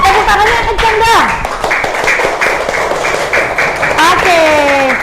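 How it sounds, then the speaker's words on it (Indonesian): A classroom of children claps their hands together in a dense, steady wash of applause, with excited young voices calling out over the clapping. "Kita kasih tepuk tangan buat semua teman-teman yang tadi maju. Tepuk tangannya kencang dong."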